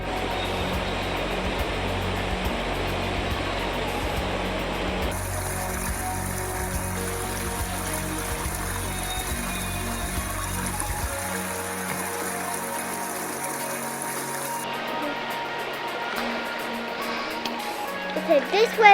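A small waterfall on Bollihope Burn gives a steady, continuous rush of falling water, loud and close, with the tone shifting partway through and a few knocks near the end.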